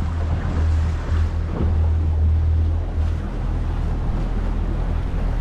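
Ocean swell and waves wash along a coastline by a lagoon, a loud continuous roar of surf mixed with strong wind buffeting on the microphone, with a low rumbling surge that rises and falls and no one speaking.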